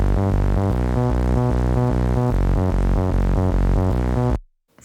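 A gritty bass layer and a Euro bass synth, stacked in a hardstyle remake, pulse together in a loud, steady rhythmic pattern of repeated notes, cutting off sharply before a brief silence.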